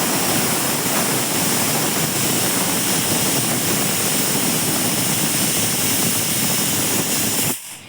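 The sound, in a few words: pressure cooker whistling while cooking dal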